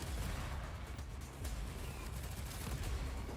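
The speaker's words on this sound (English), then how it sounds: "We got a big ass badass Gatling gun." A Gatling gun in an Xbox Series X shooter fires in a dense, continuous rattle of rapid shots, loud and steady throughout without a pause.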